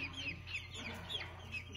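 A small flock of chickens clucks softly nearby, repeated short murmuring calls over a quiet steady hum.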